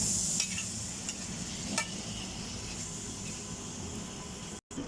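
Mixed vegetables for a simple breakfast ginisa sautéing in a pan, with a soft continuous sizzle and a few scraping stirs, fairly quiet and steady throughout.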